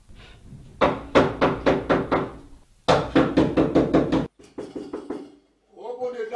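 Loud, close knocking on a door in two rapid bursts of about six and five blows, followed by a shorter, softer round of taps and some faint rustling.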